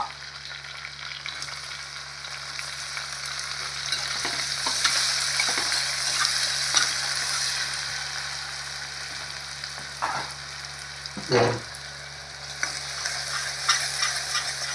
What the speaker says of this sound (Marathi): लसण टाकल्याच्या नंतर आपण टाकूया कांदा